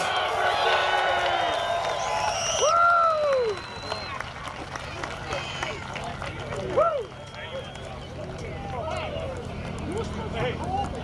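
A crowd roars and cheers across a wide open speedway at a USAC sprint car race while an announcer speaks over a loudspeaker above the steady din.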